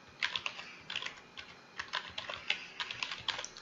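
A root password is typed on a computer keyboard as short bursts of quick, light key clicks with brief pauses between groups, close up and alone in a quiet room.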